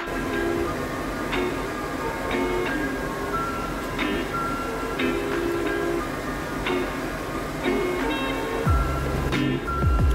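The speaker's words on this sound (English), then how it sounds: "This is the second train." A passenger train in Poland runs on its rails with a continuous rumble. Rhythmic clickety-clack wheel beats repeat steadily, heard close from inside the carriage.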